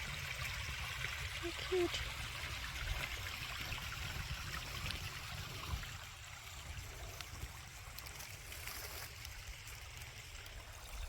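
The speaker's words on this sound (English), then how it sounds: "look at this little creek with a little bitty waterfall" A small creek with a little waterfall on a forest trail, steady soft trickling and gurgling water throughout, with a person briefly speaking over it.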